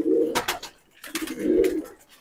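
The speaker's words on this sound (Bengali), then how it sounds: "দুটো করে পায়রা ধরে দেখাচ্ছে" Malwai pigeons from Punjab coo in two soft, rounded bursts with a short gap between, close by and fairly loud, with faint background noise and no talking.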